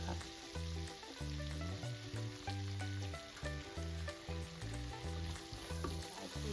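Shallots frying in a pan give a steady, close sizzle, with a music bed running underneath and no one speaking.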